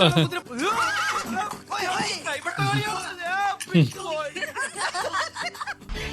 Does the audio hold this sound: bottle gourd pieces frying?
no